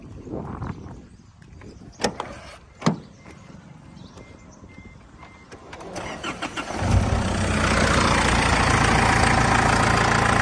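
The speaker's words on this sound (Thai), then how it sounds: "ฟังเสียงเครื่องนะครับ" Clicks and a couple of sharp knocks, then a 2008 Isuzu D-Max 2.5 diesel pickup engine cranks and catches into a loud, steady rumbling idle nearby, clattering like a diesel.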